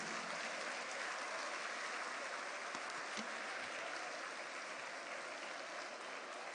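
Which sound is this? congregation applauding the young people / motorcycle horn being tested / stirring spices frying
congregation applauding the young people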